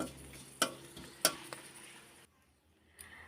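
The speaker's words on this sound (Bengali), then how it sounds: "এবারে দিয়ে দেবো একটা শুকনো লঙ্কা ফোড়ন দিয়ে দেবো, একটু ভাজা ভাজা হতে দেবো।" Dried red chilli and five-spice tempering fries in hot oil: two sharp crackling pops stand out over a soft sizzle and stirring scrapes, then the sound drops nearly quiet.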